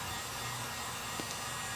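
A heat gun blows hot air onto a dented car panel during paintless dent repair, making a steady, close, hissing roar with no pauses.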